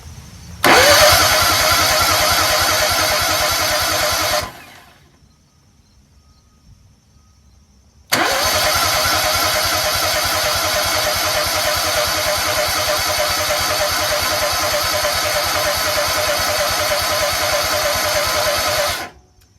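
A Kohler EFI engine cranks hard without catching, one long loud burst, a pause of a few seconds, then a second longer burst of steady cranking, with no voices.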